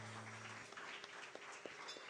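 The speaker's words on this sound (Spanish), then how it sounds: "Denle un aplauso al Señor en esta hora" Steady applause from a crowd fills the room, a dense wash of clapping with a few louder individual claps standing out.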